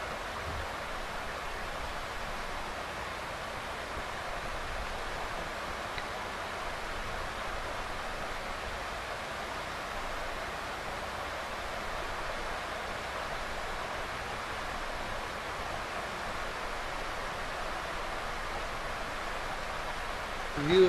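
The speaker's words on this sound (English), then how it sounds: "just listen to the river and some of the ambient noises" River flowing past a swimming hole at a ranch in Mexico: a steady, even wash of rushing water, close and continuous, with no voices and only a brief thump at the very end.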